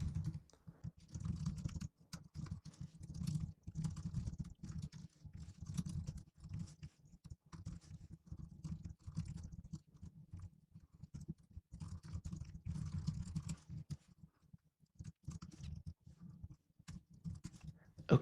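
Someone types HTML code on a computer keyboard in quick, uneven bursts of close, soft key clicks with short pauses between runs, and nobody speaks.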